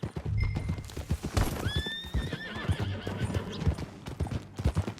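A horse in Red Dead Redemption 2 gallops with steady clip-clopping hooves and lets out a clear, rising whinny partway through, loud and close with no talking.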